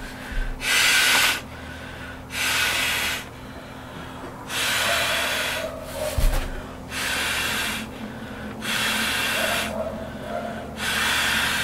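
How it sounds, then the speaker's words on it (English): Breath blown by mouth into the valve of a four-season inflatable sleeping pad, six or seven long airy puffs evenly spaced with short pauses between, close and moderately loud, with no talking. "this is where you blow into it. You blow into it with your mouth."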